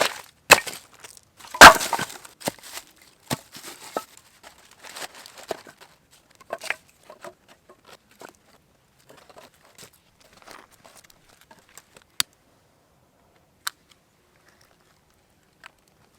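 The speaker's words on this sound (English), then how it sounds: "let's get a fire going." Outdoor wood fire being built in freezing 15-degree weather: sharp snaps and crackles, dense at first, then thinning to sporadic isolated pops close by.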